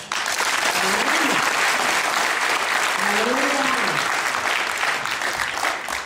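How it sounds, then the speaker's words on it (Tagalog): Church congregation applauding in a broad, steady wash of clapping that fills the whole stretch, with a preacher's voice speaking over it. "Sa akin po yung palakpak na yun."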